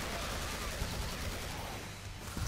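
Rapid automatic fire from a golden AK in the video game Killing Floor, a dense continuous rattle of shots running the whole stretch, loud and steady, with a low hum underneath.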